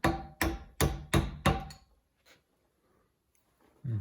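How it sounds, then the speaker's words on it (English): Five sharp, evenly spaced taps from a small hammer seat a tapered bearing while a milling machine is being restored, each strike close and crisp, then a quiet pause before a low thump at the end. "And then use the small hammer."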